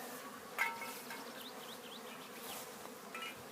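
Honeybees flying around hives at an apiary, a soft steady buzzing hum spread evenly throughout, with a few brief louder passes drifting close and away, no voices.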